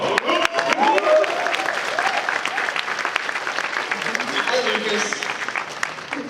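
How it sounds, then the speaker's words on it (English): At a New York Comic Con 2013 panel for Batman: Arkham Origins, a large convention audience bursts into loud, sustained applause and cheering that fills the hall, with a few voices carrying over it. "You deserve to be up on the stage to hear the applause that you've given"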